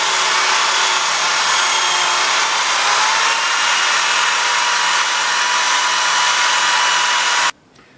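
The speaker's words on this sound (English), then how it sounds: "Before I put that piece back on, I want to polish this little area too." A buffing tool polishes a small exhaust part from an MT-09 motorcycle, giving a loud, steady, unbroken whir that runs for about seven seconds and then cuts off sharply.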